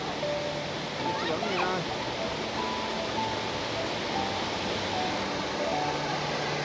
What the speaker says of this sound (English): Maldepta waterfall.